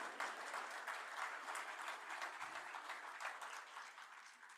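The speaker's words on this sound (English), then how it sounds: "So let's give a round of applause." An audience at a weekly club meeting applauds early act school programs, with a fairly faint, steady crowd clapping sustained evenly throughout.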